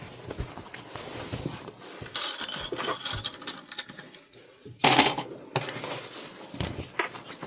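A sewing machine topstitches a fabric makeup bag in short mechanical runs, with a louder burst in the middle and quieter pauses between, close by.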